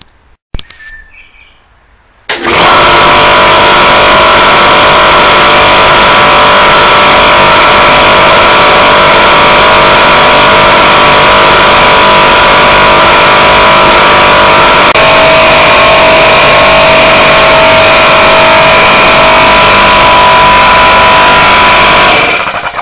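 After a brief quiet start, a Danfoss Maneurop MT57HL4A refrigeration compressor motor starts up and runs with a loud, steady electrical hum and drone, unchanging for the rest of the clip with no talk.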